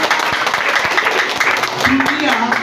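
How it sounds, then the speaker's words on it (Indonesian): A church congregation at a Christian sermon claps in praise of God, a busy burst of clapping mixed with voices throughout. "Tepuk tangan bagi kemuliaan Tuhan"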